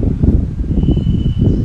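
Cold wind gusting steadily at Nandi Hills, heard as a continuous, fairly loud low rumble of air buffeting the microphone, with no talk.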